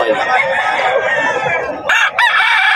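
A Kelso bullstag rooster crows loudly and close by, one long drawn-out crow followed by a short clipped tail, with no other sounds around it.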